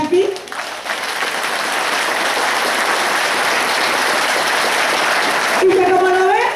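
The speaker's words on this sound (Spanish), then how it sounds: "quiero pedirles que me le den un aplauso a este grupo de mujeres que están aquí" An audience gives a group of women a big round of applause at a Month of the Older Adult celebration in Villarrica: loud, dense clapping that holds steady for several seconds, with voices at the very start and end.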